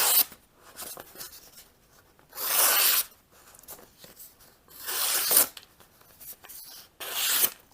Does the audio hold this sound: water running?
no